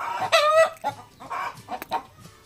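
Chickens cluck close by outside a house in a run of short, uneven calls that come and go, loud and near with no talk over them.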